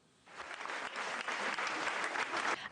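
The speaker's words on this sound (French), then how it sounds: "Acclamation pour le nouveau prix Nobel d'économie." A studio audience applauds the new Nobel economics laureate, Jean Tirole. A faint start swells quickly into a full, steady wash of clapping that stays loud to the end.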